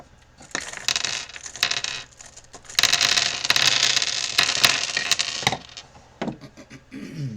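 Several soft taps and slides as cards are set down on a wooden surface, with rustling shuffles in between, close and fairly quiet.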